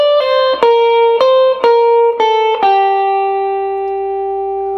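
An electric guitar plays a jump blues lick on the high strings, six quick picked notes sliding between pitches, then a final note left ringing and slowly fading, clear and close.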